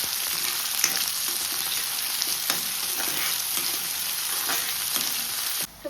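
Onions sizzling steadily in a pan for Goan crab sukha, a close, even frying hiss with light scrapes of stirring and no voices.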